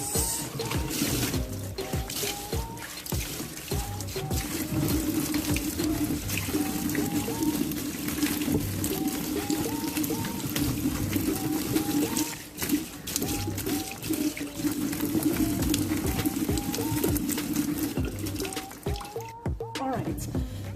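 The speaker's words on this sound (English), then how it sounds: "I rinsed it out until the water started running sort of clear" Tap water runs steadily while bleached fabric is rinsed by hand, a continuous trickle and splash lasting many seconds, close by, with a person talking over it.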